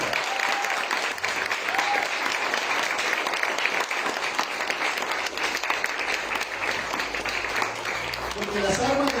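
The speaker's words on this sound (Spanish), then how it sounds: "Denle un aplauso a nuestro Dios." Steady applause from a church congregation, dense clapping that continues for the whole stretch at moderate volume.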